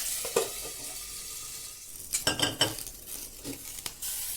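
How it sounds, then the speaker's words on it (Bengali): Chopped onions fry in a covered pan for a spicy crab curry, a steady soft sizzle with clinks and scrapes of a spoon stirring against the metal, close and without talk. "পেঁয়াজটা আমি 1 মিনিট ভাজবো ঢাকা দিয়ে।"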